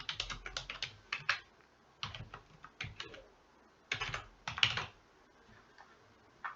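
Someone types an address into a W-2 form on a computer keyboard, tapping in quick bursts of close, crisp keystrokes with short pauses between them.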